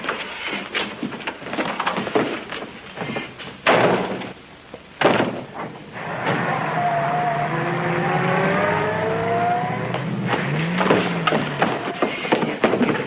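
A getaway car after a bank holdup: door slams and clatter, then an engine revving up and pulling away, loud and close before fading, with brief muffled voices.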